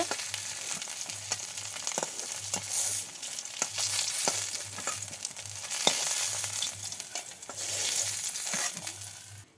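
Fish fries in hot oil in a pan, a steady close sizzle broken by frequent clinks and scrapes of a utensil, continuous throughout with no speech.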